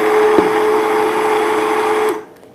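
A kitchen blender whirs steadily while blending fresh homemade tomato soup, a loud continuous motor drone close by that runs for about two seconds and then cuts off abruptly, leaving near silence.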